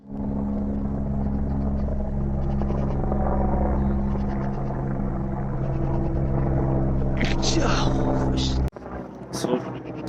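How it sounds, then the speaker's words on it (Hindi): Helicopter passing over Agaan on a Himalayan road to Pangong Lake, a steady low rotor drone that holds loud and constant for most of the stretch before cutting off near the end. "और ये जा रहा है यहाँ से हेलीकॉप्टर।"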